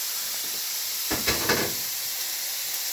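Mince fries in a pan with a steady sizzle hissing throughout, broken briefly near the middle by a short clatter of a utensil against the pan.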